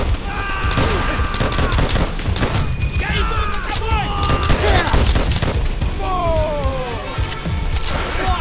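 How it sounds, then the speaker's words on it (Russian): Dense gunfire and explosions fill a Call of Duty: World at War battle, with rapid shots, crashes and booms continuing throughout while soldiers shout over the din. "Хороший выстрел, Миллер!"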